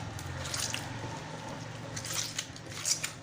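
Slime being mixed by hand from glue and activator, giving soft, continuous wet squishing and sticky clicking sounds with occasional sharper squelches, fairly close and steady without talk.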